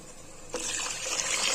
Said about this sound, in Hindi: अब हम इसमें शामिल करेंगे पानी।